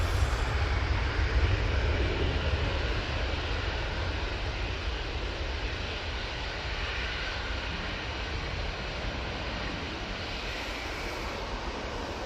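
Airliner taking off from Manchester Airport for Palma de Mallorca, a loud, steady jet engine roar filling the whole stretch, broadband and continuous, fading only slightly toward the end with no talk.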